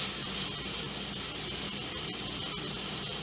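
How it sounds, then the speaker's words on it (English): Broccoli and sirloin sautéing in a pan, a soft continuous hiss and sizzle at low, steady level throughout, close and without voices. "And get that sauteed up."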